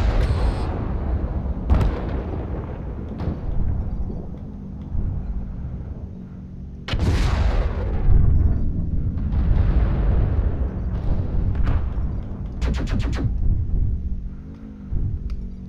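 Artillery strike explosions in MechWarrior Online thunder as a series of heavy booming blasts, several sharp bursts spaced across the stretch amid rumbling battle noise, with no talking.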